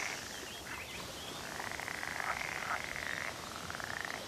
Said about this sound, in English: Male northern pool frogs call during May